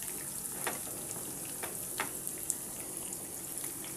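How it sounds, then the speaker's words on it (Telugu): Chillies, curry leaves and onions frying in a pan for upma, giving a faint, steady sizzle with occasional small pops and crackles, alone with no talk. "ఇప్పుడు దీన్నంతా బాగా కలబెట్టేసుకొని ఒక రెండు మూడు నిమిషాలు వేగనివ్వండి"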